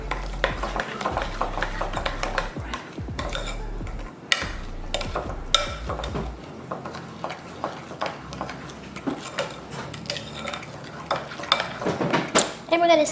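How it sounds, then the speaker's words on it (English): Cookie ingredients for white chocolate chip pumpkin spice cookies are whisked together in a bowl, giving rapid, repeated metallic clinks and scraping against the sides, close up, with a low hum beneath. "And we're just going to whisk this all together."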